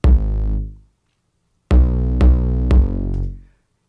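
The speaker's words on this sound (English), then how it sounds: "I'll split it out between a kick drum and a bass sample that sounds kind of 808ish and distorted." Layered kick drum and distorted 808-style bass sample in a song breakdown: one long booming hit, a pause, then three punchy hits with sustained distorted low bass tails, loud and alone.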